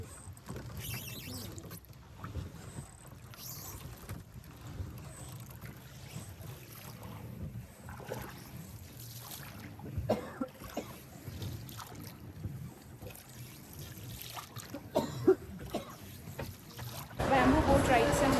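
A bamboo boat is rowed across the water of Halong Bay on the way to the Luon Caves, with steady low water and wind noise throughout, a few louder knocks and splashes, and a busier, louder stretch at the very end.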